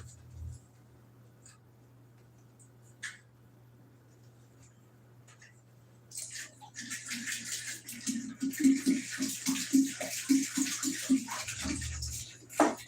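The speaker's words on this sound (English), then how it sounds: "Here's our 5th gallon of distilled water." A gallon of distilled water glugs and splashes into a large container for mead, starting after a few seconds of near quiet and building into a loud, continuous pour with rhythmic glugging.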